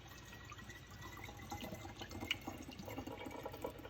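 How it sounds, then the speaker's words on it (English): Excess water poured out of a container holding rendered wax after hours of refrigeration, a steady splashing pour with watery gurgles, close and moderately loud throughout. "we are just gonna dump out all of this excess water so we can get to the wax"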